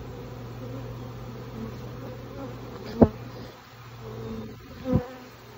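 Honeybees from a swarm in a Granny Smith apple tree buzz steadily and close in the open air, a continuous drone with a couple of louder individual bees passing near, no speech.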